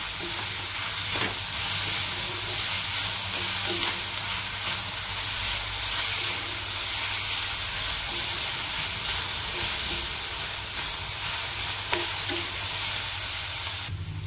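Coriander frying with onions in a pan, a loud, continuous sizzle and hiss with occasional stirring ticks, steady and close for the whole stretch.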